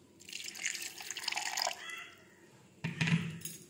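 Water splashes into a blender jar while mango is ground for a cake batter, a hissing, bubbly pour lasting under two seconds, then a short pause before a second gurgling splash, close and moderately loud.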